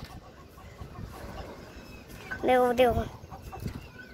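A startled rooster lets out a loud burst of clucking close by, over a brief spoken word and faint background chatter.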